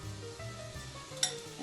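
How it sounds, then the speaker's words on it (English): Chopped onion hitting hot oil in a pan for a vegan three-bean chilli, a soft low sizzle with a brief clink of a utensil against the pan midway, quiet and close. "Now that oil is probably heated up, so I'm going to add my onion first."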